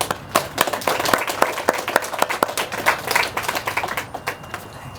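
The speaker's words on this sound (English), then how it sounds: "Please give a round of applause and welcome Mr. Terry Gentry." A small audience at a groundbreaking press conference claps in sparse, distinct, close-sounding claps that taper off after a few seconds.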